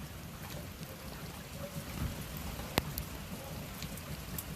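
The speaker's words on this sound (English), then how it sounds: "Let's do yoga in the rain." Steady rain falls outdoors on a morning in Stony Creek Mills, Pennsylvania, a constant broadband patter with one sharp nearby drip or tap partway through, no voices.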